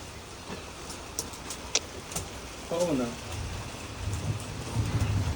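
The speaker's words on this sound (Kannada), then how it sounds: "ಕೊನೆಗೂ ಮಳೆ ಬಂದ್ಬಿಡ್ತು ಐಸ್ ಒಳ್ಳೆ ಮಳೆ ಹೋಯ್ತೈತೆ" Heavy rain pouring down during a bike trip with friends, a steady broad hiss of drops on surfaces, with a person talking over it partway through.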